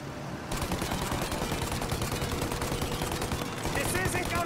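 Rapid continuous gunfire is aimed at a plane's engines in Mafia Definitive Edition, a dense rattling burst that keeps going under a layer of background game noise.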